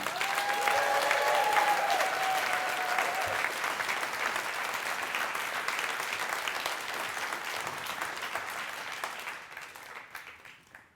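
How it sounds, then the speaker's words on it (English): Thunderous audience applause at a liar's storytelling contest welcomes a performer to the stage, a loud, dense wash of many clapping hands that holds steady, then thins and fades near the end, with a brief voice-like tone early on. "may we welcome to the stage with thunderous applause, Mitch Nelson"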